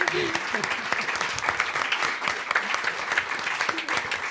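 An audience at a live sing-along music show gives a dense, sustained round of applause, close and steady throughout.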